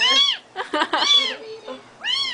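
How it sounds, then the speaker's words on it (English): A cat at an animal shelter in Escondido gives two clear, rising-and-falling meows, one at the start and one at the end, with close voices and cat sounds in between. "There's a kitty cat."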